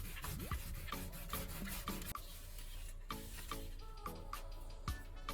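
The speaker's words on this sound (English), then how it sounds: "Use the remaining lemon to scrub the softened rust, working along both sides and around the base of the teeth." A lemon is scrubbed along a rusty handsaw blade to lift softened rust. The rubbing comes in rhythmic back-and-forth strokes, quiet and close, with no voices.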